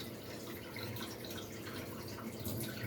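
Water is poured over freshly planted seeds in a soil-filled container for winter sowing, giving a steady close splashing and trickling that runs continuously without any talking.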